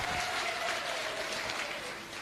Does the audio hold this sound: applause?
yes